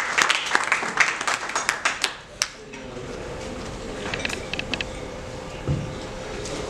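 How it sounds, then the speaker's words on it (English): Attendees at a medical conference session on dementia and neurocritical care give a short round of clapping, loud and distinct at first, then thinning to a few scattered claps over a quiet room. "Please give him a round of applause."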